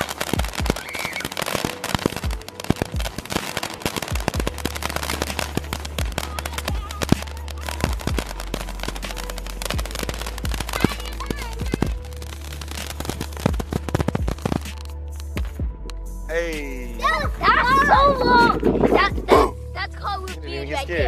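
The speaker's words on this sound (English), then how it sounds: "That thing is a real firework." Real consumer fireworks set off at a Fourth of July family celebration: rapid crackling bursts and pops go off repeatedly, loud and close, with people talking over them and a whistling stretch near the end.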